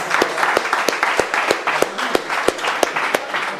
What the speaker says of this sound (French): Allez, on applaudit, merde!